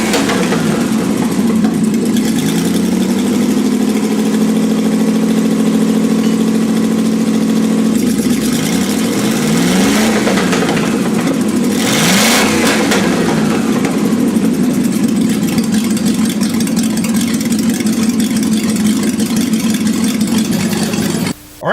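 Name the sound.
Dodge Charger V8 engine idling and revving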